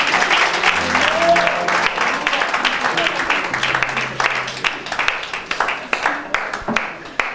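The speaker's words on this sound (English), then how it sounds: "Everybody clap for Jesus." Church congregation clapping at a birthday thanksgiving service, a steady mass of hand claps that runs throughout and thins toward the end, with voices calling out beneath it.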